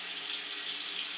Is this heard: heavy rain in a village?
no